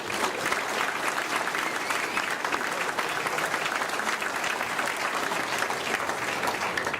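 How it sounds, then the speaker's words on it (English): An audience at a senate forum breaks into sustained applause, a dense, even wash of many hands clapping at close range that carries on steadily without pause. "I would like all of you to give a warm round of applause to every person who is sitting here"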